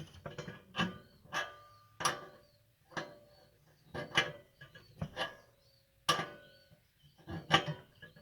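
A 9/16 wrench snugs down a nut on a Kamplite model IL-1 inverted lantern, producing repeated close metallic clicks and short ratcheting creaks at irregular intervals, separated by quiet gaps.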